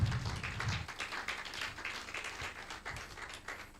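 An audience at a public event applauds a company called Sahara, producing steady faint clapping that continues throughout the stretch.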